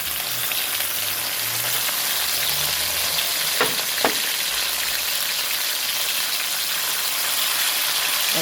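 Chicken pieces fry in a pan for chicken sotanghon soup with loud, constant close sizzling and crackling throughout, broken by a couple of faint clicks from the pan.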